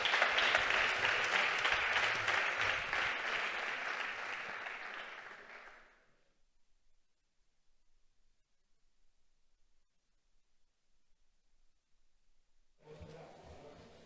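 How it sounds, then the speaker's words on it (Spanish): An audience at a conference on residential and tertiary sector solutions applauds the moderator and panel speakers, a strong burst of clapping that fades out after six seconds, followed by near silence and then a voice. "Un aplauso para ellos."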